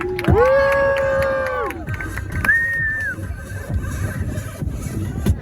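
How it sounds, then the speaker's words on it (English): Passengers on a boat tour off Miami let out a loud harmonic whoop and cheer at the start, then a steady crowd murmur carries on under faint noise as the boat heads back toward the marina. "If you guys have fun out there, let's clap it up and make some noise for Captain Gar."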